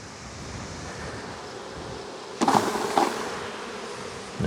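Honeybees buzz at a hive where the colony is weak, a constant low drone with louder close passes near the end as bees fly by.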